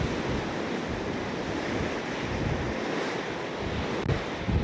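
Rough sea surf breaks steadily on an Isle of Man shoreline, a continuous broadband wash of waves mixed with wind buffeting the microphone, with no voices.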